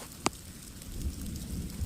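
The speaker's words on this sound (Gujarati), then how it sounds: "અત્યારમાં વરસાદ છાંટા બહુ મોટા મોટા પડે છે ને વરસાદ ઝાઝો આવે છે" Heavy rain with big drops falls steadily outdoors, a continuous hissing patter with one sharp tap early on, moderately faint and without talking.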